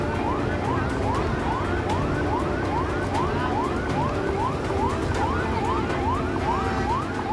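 A fire truck's wailing siren repeats in quick rising and falling sweeps, continuous and fairly loud over a rumbling background of traffic.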